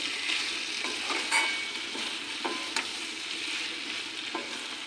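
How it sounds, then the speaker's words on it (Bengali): Flat beans frying in a pan as mustard paste is mixed in, giving a steady crackling sizzle broken by repeated spatula scrapes and stirring knocks, close and without talk. "এখন আমি পুরনের এটা দিয়ে দেব সর্ষাটা ভালো করে মিশিয়ে নিই"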